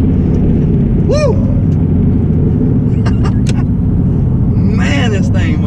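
A twin-turbo Ford Mustang S550 accelerates hard with a loud, continuous engine roar right up close, while people whoop and talk over it.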